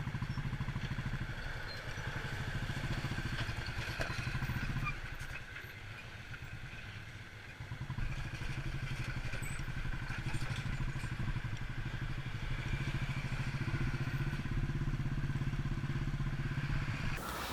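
A motorcycle rides along the Zojila Pass road, its engine droning steadily and loudly for the whole stretch, dipping briefly midway, with wind and rattling road noise mixed in.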